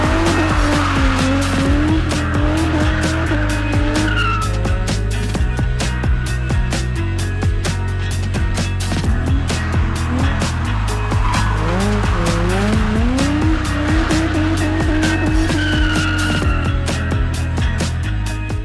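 Infiniti G35 drifting around a corner on the street, its engine roaring loud and close with revs rising and falling while the tires squeal in long wavering shrieks, no talk.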